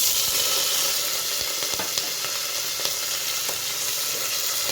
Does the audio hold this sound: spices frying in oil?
yes